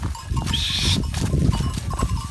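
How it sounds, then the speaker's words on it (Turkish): A flock of sheep moves through a field, with a dense close rumble of hooves and bodies, scattered bleats and a faint bell clinking throughout. "Tabi koyunları da burada"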